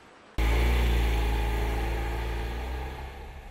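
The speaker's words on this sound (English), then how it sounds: "When the Nano's small engine is running hard, it can be quite noisy." The small rear-mounted engine of a Tata Nano runs hard with a loud, steady drone that starts abruptly after a quiet moment and holds close and strong, easing slightly toward the end, with no voices.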